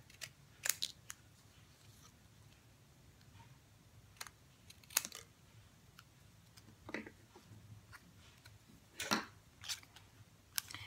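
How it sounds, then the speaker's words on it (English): Scissors snipping off excess craft paper for a Halloween treat box, a scattered series of sharp close cuts and paper rustles with quiet pauses between them and no talking. "Then I'm going to turn it upside down and cut off the excess."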